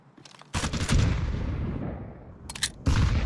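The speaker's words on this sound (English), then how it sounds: "Live grenade." Grenade blast and bursts of gunfire in an online multiplayer shooter with M4 rifles, a sharp loud crack followed by a long rumbling decay, then further rapid shots, with no talking.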